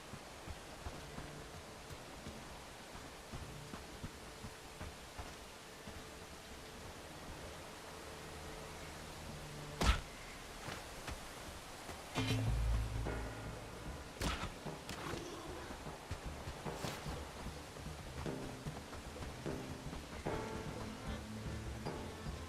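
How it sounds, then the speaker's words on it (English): Rain falls steadily in the medieval video game Bellwright as a dense, even hiss, with a few sharp game thuds and clicks breaking through and no voices. "Can't see in this rain."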